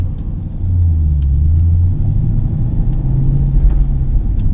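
A manual transmission car pulls away from a stop sign in first gear, a loud steady low engine rumble swelling as it moves off and holding a droning tone, heard from inside the car.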